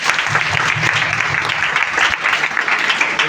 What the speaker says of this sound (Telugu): అందరూ క్లాప్స్ కొట్టండి ఒకసారి.